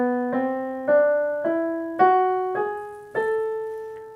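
A melodic minor scale ascends as seven separate, evenly spaced notes, each struck cleanly and decaying before the next, played alone with no voice.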